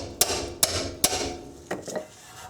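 A hammer whacking a wrench to break loose a rear strut nut: three sharp metallic strikes in steady succession, then two weaker hits, close and loud with brief ringing after each blow.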